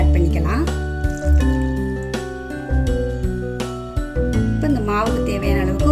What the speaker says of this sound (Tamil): இப்போ இந்த மிக்ஸி ஜார்லேயும் ஒரு 2 ஸ்பூன் அளவுக்கு தண்ணி ஊற்றி அதையும் இந்த மாவோட ஆட் பண்ணிக்கலாம்.